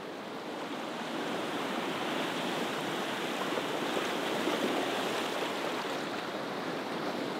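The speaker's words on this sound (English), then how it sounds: "the waves are crashing over these rocks in the foreground" Waves surge and crash over rocks on the beach at Dunraven Bay, Southerndown, Wales, a steady broad roar of surf and spray that holds loud and continuous throughout without any voices.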